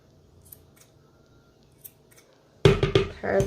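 Scissors trim loose yarn from a handmade planner tassel, a few faint close snips early on, then a burst of louder crisp snipping at the end.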